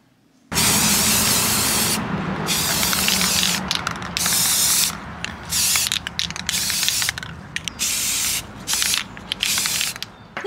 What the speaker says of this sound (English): let's take him back outside and spray paint the hair